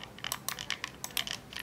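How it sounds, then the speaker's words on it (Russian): A Razer Viper 8K computer mouse creaking and clicking in quick, irregular small taps and squeaks, close and fairly quiet, with no talk. "мышка Viper 8K. Единственное, она мне не нравится, то, что скрипит"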